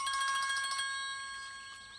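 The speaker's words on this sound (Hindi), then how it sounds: "अरे फोन है" A phone rings with a bright electronic tone, a rapid trilling pattern that sounds clearly for under a second and then fades away, with no talk over it.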